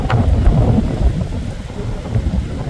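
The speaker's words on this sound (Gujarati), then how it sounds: "પવન એટલો ફૂંકાય છે ને આડો હળો મિક્સ થઈ જાય છે વરસાદ" A wind-blown rainstorm roars loudly and close, with rain pounding down and strong gusts rumbling throughout in a dense, unbroken storm texture.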